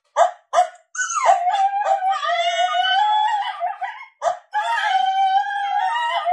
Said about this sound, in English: It's called coyote pair yip yap.